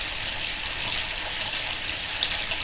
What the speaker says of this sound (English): I'd left the sink tap on